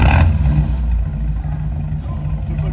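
A BMW 318ci E46 with a stage 1 tune and full-tube exhaust rumbles loudly and close by, with a short rev at the start before settling into a deep, steady idle; no talking.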